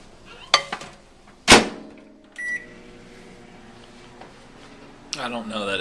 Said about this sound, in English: Flash forward to microwave time.